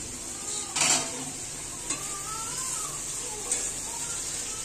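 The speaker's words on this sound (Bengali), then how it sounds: "শুধু আলুটা ভাজছে।" Potatoes frying in a pan as the first step of a home-made biryani, giving a steady low sizzle with a few brief scraping stirs and clinks of a spatula against the pan.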